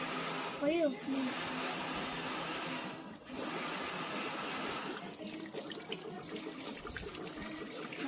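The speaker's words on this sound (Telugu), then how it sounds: "కుక్కర్ లో కొన్ని వాటర్ పోసుకోవాలి." Water poured into a pressure cooker for steaming caramel pudding, a steady close trickle and splash running throughout, with a brief voice sound near the start.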